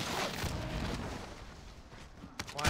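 Muffled gunshots and booming blasts from an online shooter video game rumble at moderate loudness, with a couple of sharper shots near the end.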